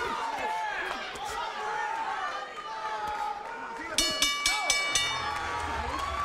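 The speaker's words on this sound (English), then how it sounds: "the crowd responds in kind here at the Fox Theater, as you see folks high-fiving in the rafters and whistling" A boxing crowd at the Fox Theater cheers and whistles at an amateur bout, a dense roar of voices with sharp whistles and several bursts of clapping or slaps near the end.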